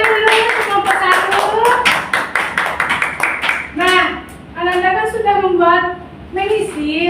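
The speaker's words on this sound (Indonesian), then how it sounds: "Boleh tepuk tangan dulu kelompok 1" Children in a classroom clap briefly for a group's science experiment results, a quick burst of rhythmic hand claps early on while an adult voice and kids' voices talk over and after it.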